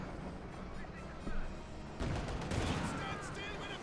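Light machine gun fire in the real-time strategy game Company of Heroes 2, rapid rattling bursts with other battle noise, heard under continuous talk from a match commentator.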